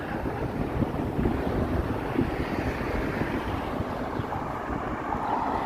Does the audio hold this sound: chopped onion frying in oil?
no